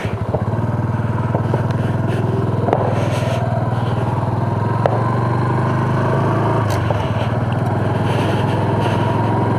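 A Honda Super Cub C125 motorcycle runs in first gear during a break-in ride, its small engine putting out a steady close buzzing drone with a few faint clatters over nearly ten seconds.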